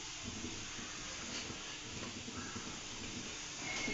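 Masala and spices sizzling in hot oil for a spicy chicken sukka, a steady soft hiss running throughout at low level with no talk.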